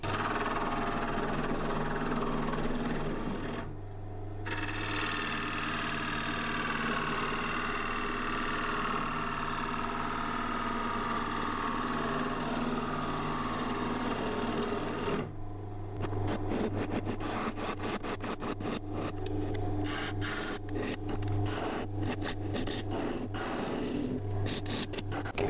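A woodturning lathe spins a piece of firewood as a gouge hollows it into a capsule, giving a steady motor hum under continuous scraping, broken by brief pauses and a choppier stretch of cutting toward the end.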